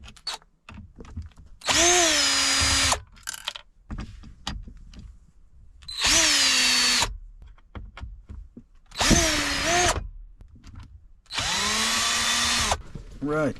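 A power drill drives out the head unit screws in a Dodge Charger Scat Pack, with four loud separate whirring bursts of a few seconds each, separated by quiet gaps filled with soft handling noise.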